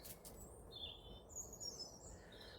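Birdsong at Port Maddock, thin high chirps and short warbling phrases drifting in the distance over a steady low ambient rumble, no talking.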